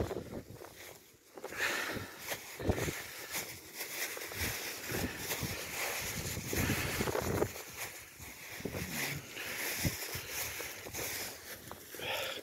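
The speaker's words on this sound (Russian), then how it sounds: "Не было бы такого сильного ветра ураганного." Strong gusty wind buffets the microphone in a cold rural yard, rising and falling in rough surges throughout, with a few faint voice fragments underneath.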